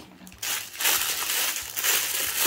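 Plastic packaging bags being unwrapped one after another, with crisp crinkling and crushing bursts that come in close, irregular handfuls.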